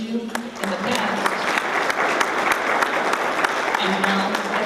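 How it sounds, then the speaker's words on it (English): Applause from an awards ceremony audience, loud and continuous clapping from a large crowd with sharp individual claps standing out and brief tonal hints of voices underneath, sustained for the whole stretch. "let's give another round of applause to all of those people"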